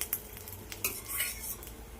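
Roasted dry fruits, including pistachios, scraped out of a pan into a small bowl with a metal spoon, several close clinks and scrapes of cutlery against cookware, with a faint sizzle underneath and no talking.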